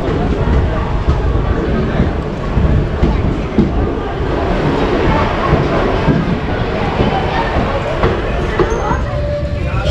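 Passenger train in motion between Jodhpur and Jaisalmer through the Thar Desert, a steady loud rumble and rattle of carriages running continuously with faint chatter of passengers in the background.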